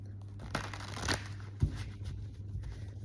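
Tarot cards being shuffled by hand in a quiet room, with soft riffling bursts and a sharper snap of cards around the middle, fairly close and alone without talk.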